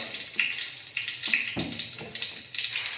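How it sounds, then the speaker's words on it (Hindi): Filtered water runs into a glass in a home kitchen while rice is being cooked, a steady close-up trickle and splash with small shifts in flow and no voices. "ये गिलास अभी हम ऐसा फिल्टर वाले पानी से इसको ऐसा भरेगा।"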